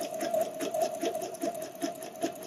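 Sewing machine stitching a wireless bra close to the fabric edge, a steady, close mechanical whir with quick rhythmic needle pulses running throughout.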